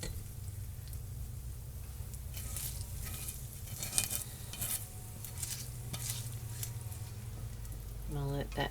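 Chorizo sizzles and crackles steadily in a pan while being stirred, with scraping and stirring noises continuing throughout at close range.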